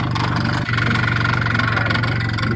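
An Arctic Cat snowmobile, a 2012 F1100 ZR-series sled, runs steadily on a short test ride, with its engine giving a continuous, loud, close droning hum and barely any change in pitch.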